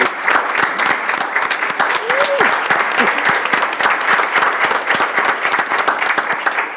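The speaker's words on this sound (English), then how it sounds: "So can we give the descendants, all of them, a round of applause?" Loud, sustained applause from a large crowd at a Board of Education meeting, dense clapping throughout, with a brief whoop or voice rising above it near the start.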